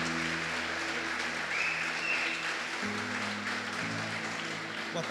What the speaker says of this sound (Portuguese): A igreja receba com uma salva de palmas ao Senhor.